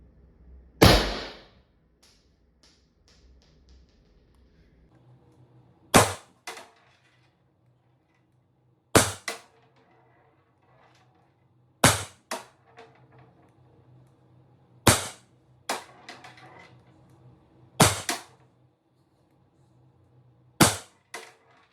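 A Valken M17 paintball pistol fires about eight sharp, loud shots, spaced roughly every three seconds with quiet gaps between, each crack followed by a short echo.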